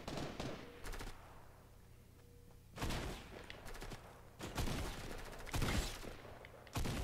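Bursts of gunfire in Fortnite, aimed at a player's umbrella: several rapid volleys separated by quiet gaps, sharp and fairly loud against a faint background hum, with no talking.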